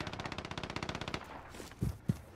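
An enemy sentry gun firing in a video game, a rapid steady burst of automatic gunfire for about a second, followed by a couple of heavier single shots.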